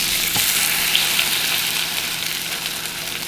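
Breakfast food sizzles and fries in a hot pan, a loud, close, continuous crackle with a faint clink near the start.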